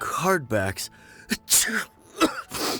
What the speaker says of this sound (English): I've been sneezing nonstop since